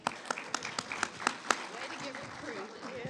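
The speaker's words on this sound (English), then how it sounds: "Let's have a round of applause for them." Sparse applause from a symposium audience for volunteers, with a handful of sharp separate claps over the first half that fade into murmuring and talk, at moderate distance.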